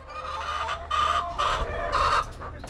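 Hens cluck on a small backyard mini farm in a series of loud, close, repeated bursts of throaty clucking, several birds calling in uneven rhythm with no voices.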